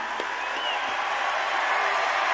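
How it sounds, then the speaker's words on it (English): A rally crowd in Arizona applauds continuously as a guest leaves, a dense, steady wash of clapping filling the space without any clear voices on top. "The whole place, we're going to clap as you leave."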